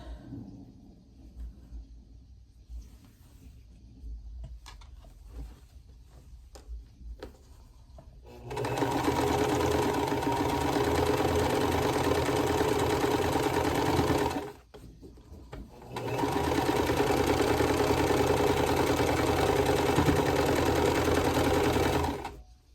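A sewing machine stitches quilt sashing in two long, steady bursts of fast whirring, split by a brief pause, after quieter handling and fabric shuffling at the start.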